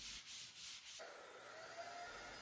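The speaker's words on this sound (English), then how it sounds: "I can give everything a light sanding with 400 grit to knock down any bumps" Light hand sanding with 400 grit sandpaper on a finished pantry surface between poly coats, a soft, steady rubbing hiss in short strokes that becomes continuous, quiet and close.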